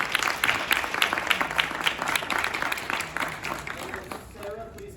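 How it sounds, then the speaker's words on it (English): A room of people applauding at an exchange program event, brisk clapping from many hands that fades out after a few seconds, with faint voices at the close. "Let's give him a round of applause."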